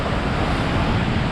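The Langtang River rushes along a mountain trekking trail, a loud, continuous roar of flowing water close by with no voices.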